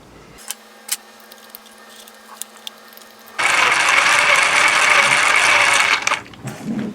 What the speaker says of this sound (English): I think the spur may be a little loose, so I'm going to tighten that up.